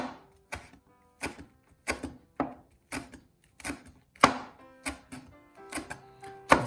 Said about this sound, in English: If you roll the leaves up and just start at one end and cut little slices.